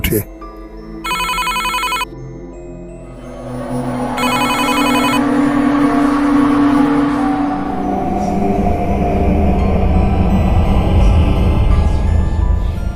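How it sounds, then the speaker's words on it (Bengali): A telephone rings in two bright, buzzing bursts, loud and near, over a dark, droning background in a Bengali ghost story. "ফোন বেজে"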